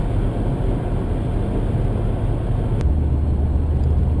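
A 650rwhp Holden E3 Senator with an automatic gearbox accelerates, heard from inside as a steady loud engine roar with a low drone that shifts to a deeper, stronger tone partway through.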